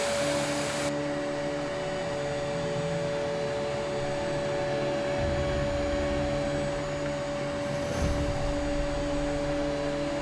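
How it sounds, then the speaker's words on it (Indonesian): A vacuum cleaner runs indoors with a steady droning whine and a constant motor tone, loud and continuous, its low rumble shifting partway through. "Kok vakum cleanernya nyala sendiri?"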